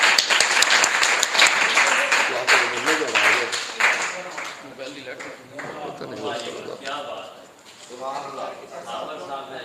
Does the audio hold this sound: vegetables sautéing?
no